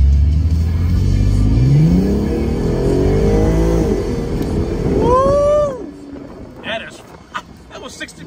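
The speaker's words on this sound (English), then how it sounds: "He did do an aftermarket, I think, Magnaflow or Borla exhaust." A 2008 Audi TT with an aftermarket Magnaflow or Borla exhaust pulls hard, its engine note climbing through the revs and rising steeply before backing off into a much quieter, fading idle.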